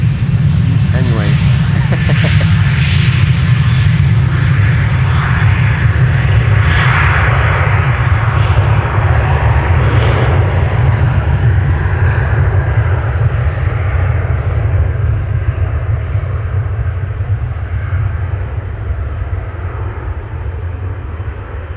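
KLM flight 515 at Amsterdam Schiphol Airport passes close with a loud, deep jet-engine roar and a high whine on top, slowly easing off toward the end; a voice talks briefly early on.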